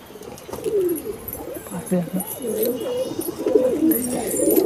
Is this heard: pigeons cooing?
yes